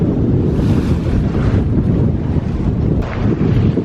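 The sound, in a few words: wind and sea waves while sailing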